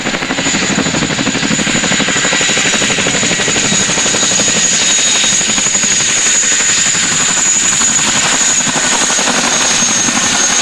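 A helicopter flies through pickup practice, its rotor thumping in a fast, even rhythm beneath a loud, steady engine whine that holds throughout, close and dominant with no talk.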